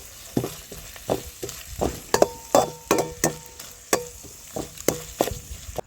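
Dried salted fish frying and being stirred in plenty of hot oil in a pan, with rhythmic scraping stirs and clinks over a steady close sizzle.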